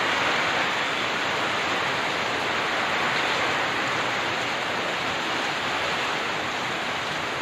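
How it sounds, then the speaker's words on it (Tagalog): Typhoon Ulysses lashes a rural community with heavy rain and strong wind, a loud, unbroken rushing roar that stays constant throughout, with no voices. "ito na yata yung malakas sa ulan na dala ng bagyo"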